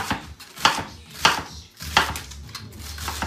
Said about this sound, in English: So we're gonna cut this up pretty thin so we can put it in the frying pan.